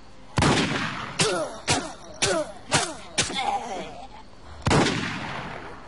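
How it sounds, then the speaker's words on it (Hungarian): Hunting rifle shots ring out in a video game, about seven sharp, loud bangs spaced irregularly, each with a short echoing tail, close and alone. "vadászpuskával lövöldözik"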